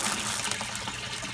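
Water draining by siphon from an IBC tank in an in-ground aquaponics flood and drain setup, a steady close rushing and gurgling flow with no pauses.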